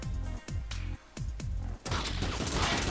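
Gunfire and explosive blasts ring out in a multiplayer video game skirmish, with a machine gun and grenade launchers in play: several short, loud bursts with brief gaps, then a dense, sustained barrage at the end.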